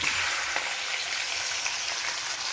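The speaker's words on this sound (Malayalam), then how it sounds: "കുറച്ച് വേപ്പില എണ്ണയിൽ ഇരിക്കെ തന്നെ നമ്മുടെ മാരിനേറ്റ് വെച്ച ഫിഷ് ഇടുക." Marinated fish, about a kilo, sizzles and fries steadily in hot oil with curry leaves for a fish pickle, a continuous close crackling hiss with no talk.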